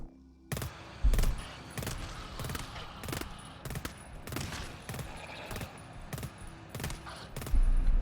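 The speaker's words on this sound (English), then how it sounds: "As you can see, it's doing a 3-round burst" Burst sentry turret in the co-op shooter GTFO fires repeated three-round bursts at regular intervals, loud and close, with a steady low hum underneath and no talking.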